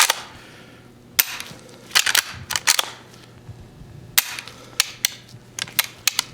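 Sharp metallic clicks from a lever-action rifle being handled and its hammer cocked, sounding as a series of close, crisp snaps in uneven clusters with quiet pauses between them.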